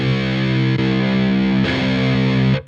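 A heavily distorted electric guitar plays through the third channel of a Mesa/Boogie JP-2C amp, giving a loud, thick, sustained chord with a brief break and re-strike, heard alone and close.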